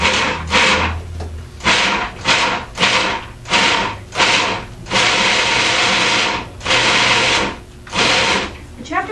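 Black walnuts being ground in a food processor, loud whirring bursts repeating in short pulses with brief gaps between them, then a longer continuous run; a voice talks lightly in the background.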